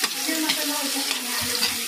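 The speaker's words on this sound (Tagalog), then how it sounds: "Isa-isa muna natin siya ng konti. Para medyo maluto yung sibuyas." Onions sautéing in a hot pan, a dense continuous sizzle with a few low stirring bumps near the end and no talking.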